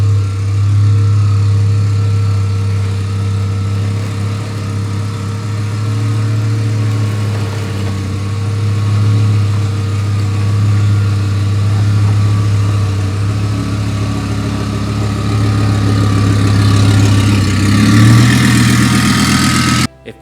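A race car engine runs at a steady, loud idle close by, its deep rumble holding unbroken for about twenty seconds with only slight swells near the end.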